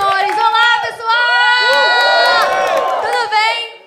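A comedy club crowd cheers loudly, with high whoops and shouts rising and falling over a broad roar of voices, close and energetic throughout.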